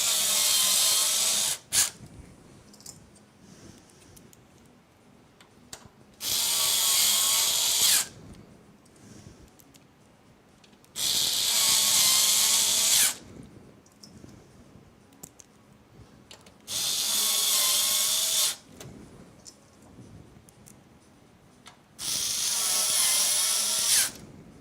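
A power screwdriver drives screws into a gaming PC during assembly: five separate whirring bursts of a few seconds each, spaced by quieter pauses with faint handling noises.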